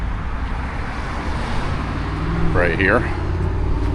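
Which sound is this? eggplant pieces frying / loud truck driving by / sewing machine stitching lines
loud truck driving by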